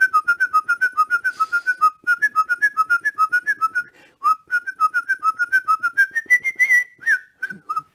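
A man whistles a melodic tune alone, clear and close, in a quick run of short bouncing notes that climbs near the end before a brief pause and a final few notes.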